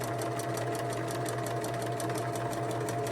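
A sewing machine runs steadily as a quilt chain is stitched to its end, giving a continuous close mechanical hum with a rapid, even needle rhythm and no pauses.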